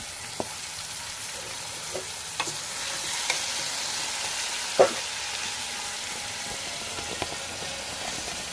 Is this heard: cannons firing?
no